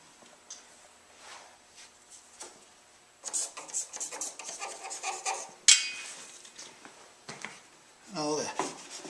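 Paste wood filler is worked across the wood grain on a game table build, giving close, dry rubbing and scraping strokes in irregular bursts with short pauses, louder in the middle and toward the end.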